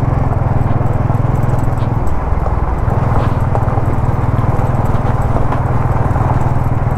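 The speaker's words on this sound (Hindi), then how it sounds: "इतने बड़े बड़े पत्थर इंजन में लग रहे हैं भाई, खाट खाट करके दर्द सा हो रहा है" A motorcycle labours over a rough, rocky off-road track on the way to Pangong Lake in Ladakh, with a loud, close engine drone and continual rattling knocks as large stones strike the engine.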